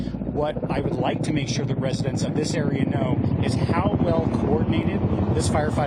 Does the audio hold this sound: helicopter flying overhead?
yes